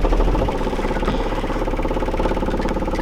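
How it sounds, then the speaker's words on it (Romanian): A Toyota engine runs on a minus 13 degree winter morning with a loud, rough idle. It has a rapid knocking, tractor-like throb that stays close and constant throughout, with no voices. "oare mai pornește Toyota? În dimineața asta sunt doar minus 13 grade"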